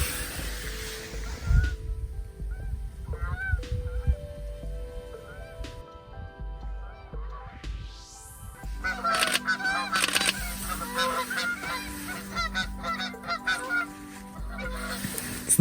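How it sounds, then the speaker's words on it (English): Geese honk repeatedly as they fly over outdoors in spring, their calls clear and fairly close at first, then continuing in a mix of overlapping honks. "Here come some geese."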